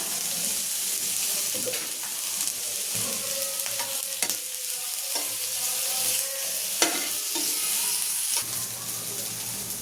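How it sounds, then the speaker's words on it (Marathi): Masala roasts in frying oil for a Maharashtrian patvadi rassa while being stirred, a bright, steady sizzle throughout with repeated scraping strokes and occasional clacks of a spoon on the pan, close and loud, with no talking. "थोडंसं तेल टाकायचं मसाला भाजायला"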